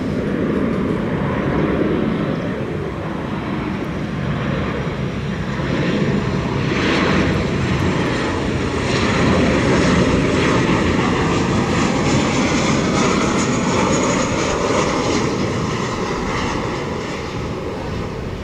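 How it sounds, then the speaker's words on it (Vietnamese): A Boeing 737 converted to carry cargo, arriving from China, lands at Tan Son Nhat airport, its engines producing a loud, steady roar that swells slightly in the middle and holds for the whole stretch, with no voices. "chiếc máy bay Boeing 737 được hoán cải thành chở hàng, và chiếc máy bay đến từ Trung Quốc này cũng đang bước vào hạ cánh"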